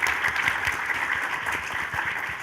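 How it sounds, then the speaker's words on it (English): Steady applause from an audience, dense clapping that holds at an even level throughout with no voices on top. "So Kristina, round of applause"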